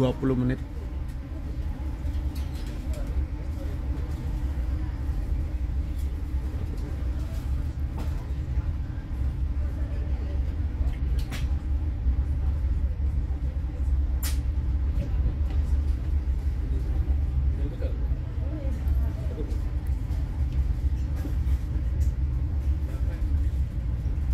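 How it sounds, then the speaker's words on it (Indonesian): Argo Bromo Anggrek express train pulling out of Gambir station in Jakarta, bound for Surabaya Pasar Turi, heard as a steady low rumble and rolling noise from inside with faint clicks, continuous throughout. "kereta api Argo Bromo Anggrek diberangkatkan dari stasiun Gambir menuju ke stasiun Surabaya Pasar Turi"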